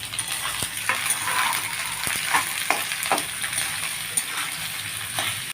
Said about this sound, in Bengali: সমস্ত ভেজিটেবলস আমার ভাজা হয়ে গেছে।